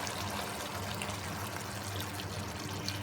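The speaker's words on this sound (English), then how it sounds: "So I can just add my standby hot water." Hot water poured steadily from a standby container into a pot of Nigerian bitter leaf soup (ofe onubu), a continuous close, even splashing rush lasting the whole stretch with no talk.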